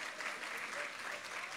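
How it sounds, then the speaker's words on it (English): Audience applause at a live talk event, a steady wash of clapping from a crowd that holds evenly through the short stretch with no voices over it. "So, that gets the biggest applause."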